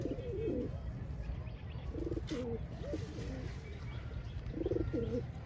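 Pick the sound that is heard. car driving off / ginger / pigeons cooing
pigeons cooing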